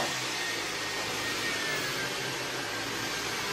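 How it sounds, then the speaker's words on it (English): Cordless vacuum cleaner running on boost at maximum suction with its head lifted, a steady, loud, unbroken whooshing whine from start to finish with no talking. "If you put it on boost and lift the head up for a few seconds,"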